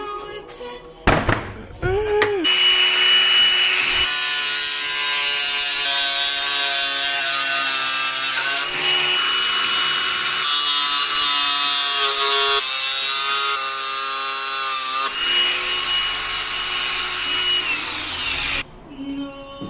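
A power tool cuts through a bent metal brace on a Suzuki TS185 motorbike, a loud, sustained whining cut in long bursts with brief pauses, preceded by a few sharp clanks.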